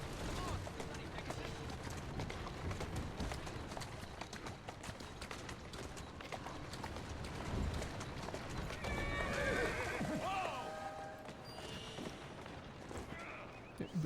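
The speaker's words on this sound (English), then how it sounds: "It still feels kind of wrong that my horse can walk backwards like that" Horse hooves clip-clop and a horse whinnies in the Assassin's Creed video game, mixed with busy game sounds and other effects throughout, with a voice talking over parts.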